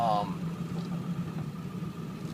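A two-wheel-drive vehicle's engine idles and rumbles steadily at close range just before pulling away, with a brief voice at the very start.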